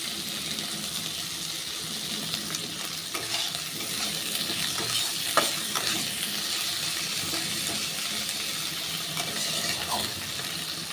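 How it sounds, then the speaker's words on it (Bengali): Half a tomato goes into spices frying in a pan, giving a steady moderate sizzle with a few scattered sharp clicks and stirring scrapes. "এবার আমি এখানে হাফ টমেটো দিয়ে দিচ্ছি"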